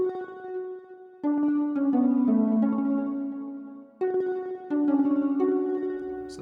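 A bright, shimmering synth pad from the Logic preset Scatter Pattern plays sustained layered chords that shift in steps, with a glassy, euphoric tone and no voices.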